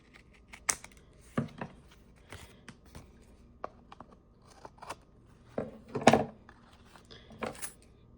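Scissors trim a paper tag in a series of close, crisp snips and slicing cuts, irregularly spaced with short pauses between, with no talking.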